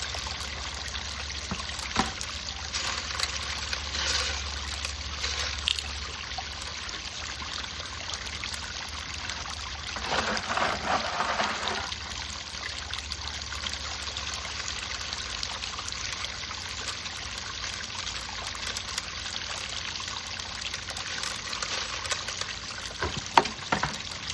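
Water trickling and splashing steadily through a mini highbanker set up to recirculate water for gold sluicing at home, a continuous close rushing flow with a few louder surges and no talk.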